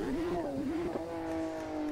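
A Porsche GT2 RS MR pulling away on a race track in Portugal, its engine note rising and wavering as it revs, then settling into a steady drone, fairly close.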